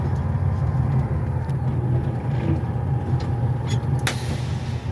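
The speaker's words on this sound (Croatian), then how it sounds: "Ovo što ste čuli, to je kočnica zračna" A truck idles steadily with a low diesel rumble while containers are loaded, and a brief, sharp hiss of air brake release cuts through near the end.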